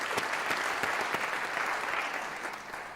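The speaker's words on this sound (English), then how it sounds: "let's give you a round of applause for the beautiful work that we have" Steady applause from a crowd at a university graduation ceremony, many hands clapping together at an even level throughout, with a few sharper claps standing out.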